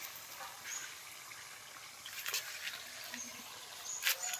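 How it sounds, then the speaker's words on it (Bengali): Semolina sitabhog sweets frying in oil make a soft, steady sizzle with faint bubbling and occasional light crackles, close but quiet. "মিষ্টিগুলো আমি লাল লাল করে ভেজে নিয়েছি"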